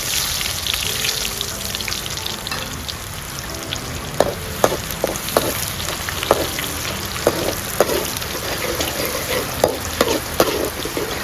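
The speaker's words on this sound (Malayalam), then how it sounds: "നമുക്ക് ഉള്ളി ഇട്ട് കൊടുക്കാം കേട്ടോ" Onions crackle and sizzle in hot oil after mustard seeds have popped, a constant frying hiss broken by repeated sharp pops and stirring scrapes.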